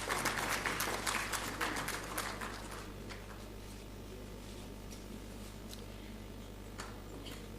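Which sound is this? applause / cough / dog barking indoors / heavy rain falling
applause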